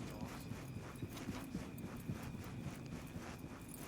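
Steady hoof clip-clops from a horse in a video game, a quick even rhythm throughout, with low ambient rumble and no talking.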